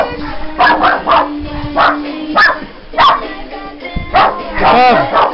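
Several dogs at a family New Year's Eve gathering bark and yip in loud, close bursts, some whimpering between barks, while people talk over them.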